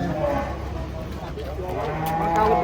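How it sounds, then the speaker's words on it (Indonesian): An old cow moos in a low, drawn-out call against steady outdoor background noise, fairly close, as cattle are unloaded from a truck. "Tuh kasihan ya sapinya."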